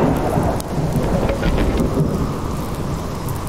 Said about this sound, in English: Jeez, that storm.